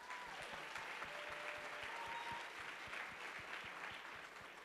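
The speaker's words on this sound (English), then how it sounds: "Let's give them another round of applause." Sustained applause from a pageant audience at the Miss Sam Houston pageant, a steady dense wash of many hands clapping at even loudness throughout, with no talk over it.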